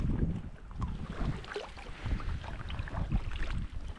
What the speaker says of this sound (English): we got the kayak out. We're cruising across the lagoon here